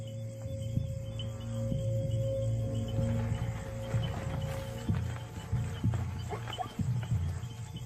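A herd of zebras moving through the African bush at night, scattered hoof thuds and rustling steps under a steady chorus of crickets and insects, with a low continuous drone in the background.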